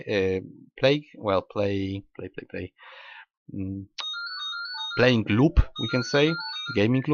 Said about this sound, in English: Sorry for the phone, by the way.